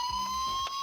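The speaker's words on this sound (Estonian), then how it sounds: "Jah, sõbrad, see oli kiirabi." A steady, piercing electronic ambulance siren tone holds briefly over a low rumble, loud and close.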